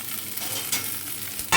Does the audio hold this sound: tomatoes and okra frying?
yes